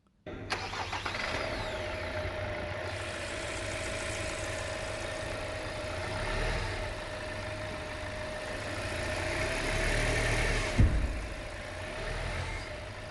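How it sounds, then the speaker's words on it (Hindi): A 2020 Kia Sonet petrol engine starts and settles into a steady idle with a low hum, revving briefly near the end, heard close with no speech. "आइए इसका इंजन साउंड सुनते हैं।"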